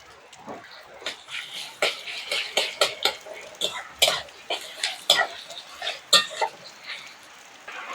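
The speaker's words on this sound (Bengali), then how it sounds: "ওই পেঁয়াজের সঙ্গে রসুনও দিয়ে দেবো রসুন" Chopped onion and garlic fry in a pan while a utensil stirs them, giving a quick, uneven run of close metallic scrapes and clinks over a faint sizzle.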